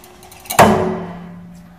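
A universal testing machine pulls a sample until it snaps at about 3,700 pounds, giving one sharp loud crack followed by a decaying ringing tone that fades over a second.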